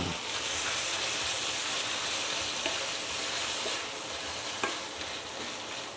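Sautéed garlic, onion and tomato stirred with fresh shrimp paste in a hot pan for pork belly and vegetables, a dense close sizzle with scraping spatula strokes and a few sharp clicks.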